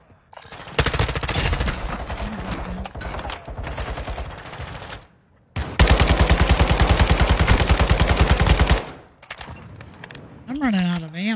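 Automatic weapon fire in a Fortnite match pours out in two long, loud, rapid bursts, broken by a short pause and followed by a few shorter shots, with a voice briefly heard at the end.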